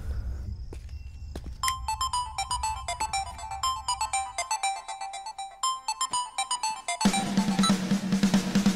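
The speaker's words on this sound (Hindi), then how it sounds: "मैं अभी उस मृदंग राव को फोन करता हूं।" A phone ringtone rings on an outgoing call, a bright repeating electronic melody that runs for several seconds over faint footsteps. It is followed by a louder burst of music or background noise near the end.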